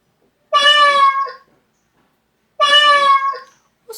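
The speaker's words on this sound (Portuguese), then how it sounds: "Se eu comparar o som do cachorro com o som de um gato" A dog bark and a cat meow: two separate high-pitched animal calls, each about a second long with clear harmonic tones, divided by silence; both sound more like meows than barks.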